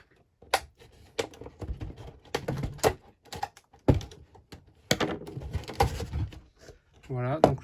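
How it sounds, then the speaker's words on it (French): Plastic wrapping is pulled and torn off a Barbie Extra doll box, with crackling, scraping and soft knocks up close in irregular bursts, and a voice speaking at times. "donc le plastique est enlevé"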